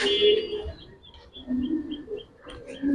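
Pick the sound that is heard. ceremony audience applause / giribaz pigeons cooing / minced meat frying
giribaz pigeons cooing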